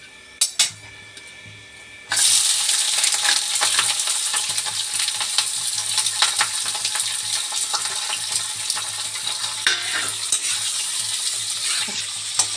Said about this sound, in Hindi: अब हम प्याज को हल्का ब्राउन होने तक इसमें भूनेंगे।